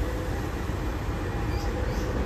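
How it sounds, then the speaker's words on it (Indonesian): A locomotive, number CC261391, rumbles low and steady nearby while shunting to turn around, a continuous heavy mechanical drone with faint squeals, no talking. "Ini langsiran lokomotif kereta api Ranggajati ya."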